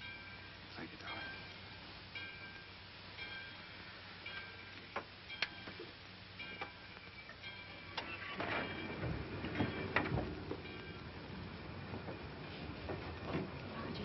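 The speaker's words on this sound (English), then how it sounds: "Roger, the train's moving." A passenger train pulls away in a 1940s film scene, its low rolling rumble and rattling clicks building in the second half beneath faint background voices.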